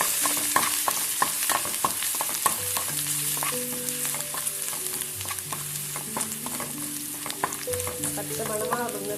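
Mustard seeds, curry leaves and ginger frying in coconut oil in a Kerala kitchen, a loud continuous sizzle with repeated spluttering pops and stirring scrapes close by, no talking.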